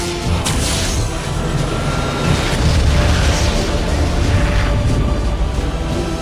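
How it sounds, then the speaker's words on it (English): Deep booming blasts and rumbling mechanical roar from the Lance of Lucatar weapon firing in Battlefleet Gothic: Armada, a dense, loud sustained barrage with heavy low-end impacts throughout. "The Lance of Lucatar is ready to fire, Admiral."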